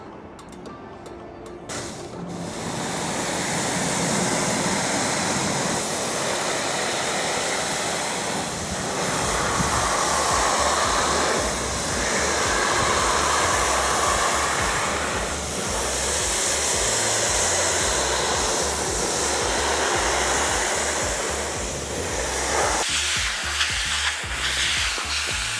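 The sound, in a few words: rinsing a vehicle with water spray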